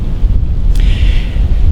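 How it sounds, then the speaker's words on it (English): Strong December evening wind on Michigan public hunting land buffets the microphone with low, rumbling gusts, loud and constant, with a faint hiss breaking through briefly. "Still windy as can be."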